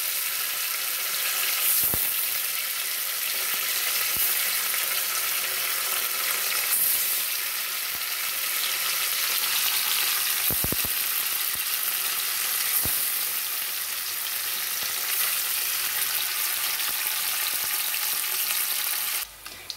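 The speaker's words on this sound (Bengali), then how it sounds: "আগেই দেখালাম পনির ভাজা বসিয়ে দিয়েছি, একটু লাল লাল করে ভাজিগুলো করব" Paneer pieces fry in a pan, a loud, unbroken sizzle running for a long stretch, broken by a couple of sharp knocks and clinks of a utensil against the cookware.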